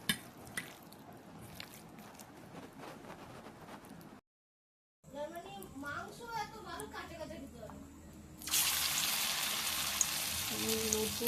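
Chicken chakali kabab frying in oil on a medium flame, with a soft wet crackle under a person talking, a brief silence, then a loud, dense sizzle that rushes in and holds steady.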